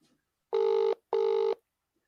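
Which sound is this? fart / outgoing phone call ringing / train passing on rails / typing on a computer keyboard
outgoing phone call ringing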